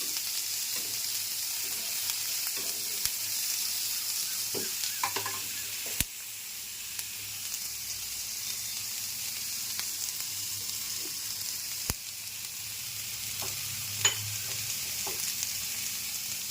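Carrots, paneer and peanuts fry in a pan with a continuous even sizzle, broken by occasional sharp utensil clicks and scrapes against the pan.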